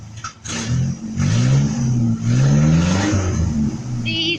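A truck engine idling too high, with a steady, strained, fairly high-pitched drone that rises and wavers slightly, heard up close and loud with no talking.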